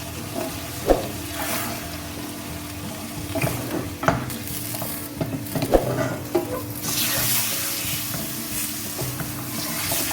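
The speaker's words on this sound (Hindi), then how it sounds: "इनको हम भूनेंगे।" Fatty minced meat and soup bones fry in a pan for masala qeema, a continuous sizzle with scattered scraping and clattering stirs, the hiss swelling louder near the end.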